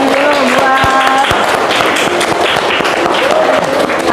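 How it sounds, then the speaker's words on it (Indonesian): Classroom audience clapping for a student being called forward, a dense patter of hands heard close, with a few voices and faint tones mixed in throughout. "Ya, tepuk tangan dulu buat"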